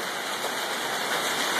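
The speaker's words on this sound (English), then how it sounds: "we're having a big hailstorm right here in Greenville, South Carolina." A big hailstorm in Greenville, South Carolina pours down as a steady, dense hiss of ice pelting surfaces, continuous and fairly loud with no voices over it.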